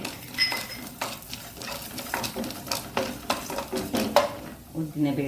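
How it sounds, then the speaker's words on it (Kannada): Chana dal frying over a low flame in a pan for an orange-peel curry, with a steady soft sizzle under repeated scraping stirs and light utensil clinks against the pan. "ಕಡಲೆಬೇಳೆಯನ್ನು ಹಾಕ್ಕೊಂಡು ಇದೇ ಒಂದು ಇದರಲ್ಲಿ ಫ್ರೈ ಮಾಡ್ಕೊಳ್ಳೋಣ"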